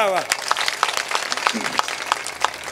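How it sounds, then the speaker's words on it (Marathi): A crowd at a Marathi kirtan gathering claps in a quick, regular beat, each clap sharp and close, with a voice and tonal sound heard over the rhythm. "तुम्ही एकदा जोरदार टाळी वाजवा हरीश दादांकडे"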